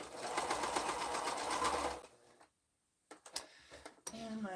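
A sewing machine stitches quilt fabric in a fast, even run of needle strokes for about two seconds, then stops, followed by quiet handling clicks and a brief voice.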